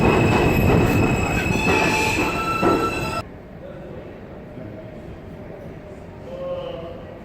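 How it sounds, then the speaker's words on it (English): NYC MTA subway train passing loudly nearby with high metallic wheel squeal and rumbling rail noise, then cutting off abruptly to a quieter platform ambience with faint rumble; voices are faintly present. "Weekend train."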